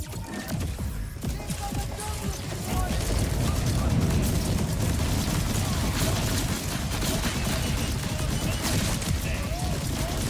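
Rapid incendiary Jacobs gunfire in the shooter Borderlands 4, a dense, continuous stream of loud shots and crackling bursts that grows heavier partway through, with game effects layered throughout.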